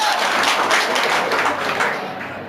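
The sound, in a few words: students clapping in a classroom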